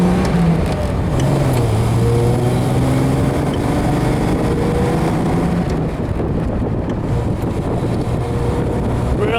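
A 1974 Triumph TR6 on a test drive at around 50 mph, steady engine drone with shifting tonal whine, heavy wind buffeting and road roar, loud and continuous from inside the car.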